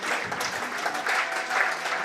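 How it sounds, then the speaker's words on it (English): A cricket crowd at a Royal London Cup one-day match between Northamptonshire Steelbacks and Somerset claps warmly for a departing young batsman, steady applause in short swelling bursts with no voices over it. "generous applause for young Lewis Goldsworthy"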